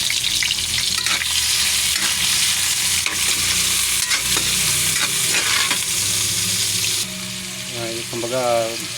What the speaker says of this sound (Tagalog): ginigisa ko muna luya, sibuyas, tsaka kamatis